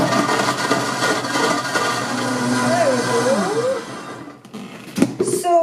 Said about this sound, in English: Lid on, and then on the blender.